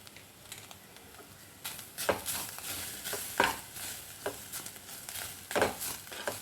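Grated coconut with a pinch of fenugreek dry-roasting in a pan for prawn theeyal, with a spatula scraping and stirring in repeated bursts over a soft, steady sizzle, close and fairly quiet, with no talking.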